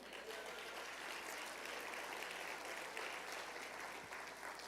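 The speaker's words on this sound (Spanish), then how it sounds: "Un aplauso al Señor." Steady congregation applause in a church during a sermon, continuous broadband clapping heard at a moderate distance, fairly even throughout with no distinct talk.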